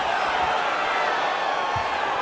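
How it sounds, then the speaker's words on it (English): A virtual arena crowd in the UFC 5 fighting game on PS5 roars steadily with scattered applause during a simulated Dvalishvili versus O'Malley bout, a dense continuous wash of cheering at even loudness throughout. "they can take in the applause because they deserve it after that grappling exchange"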